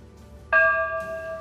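An old church bell rings once in the bell tower of the main church of Iracema, a clear struck tone with a long, steady ringing hum that sustains and slowly fades.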